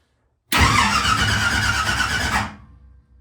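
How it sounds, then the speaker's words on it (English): An old car's starter motor cranks the engine, which does not start because it has no distributor, in one loud, continuous churning burst of about two seconds. It then cuts off into a fading rattle. "The starter works."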